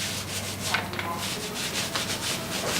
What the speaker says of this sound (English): You see how I'm kind of rolling into the area I've completed.